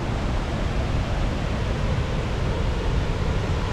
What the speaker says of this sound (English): This waterfall is awesome. Oh my gosh, and the hot spring is right next to the waterfall.